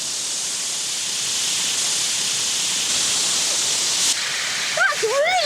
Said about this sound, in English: this is spraying the water at a really high pressure